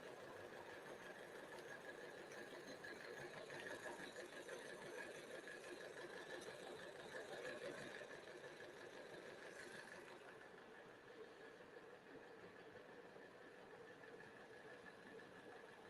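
A model train locomotive sits on the track under power with its wheels spinning in place, giving a faint, steady mechanical whir. The hum continues alone and eases slightly toward the end.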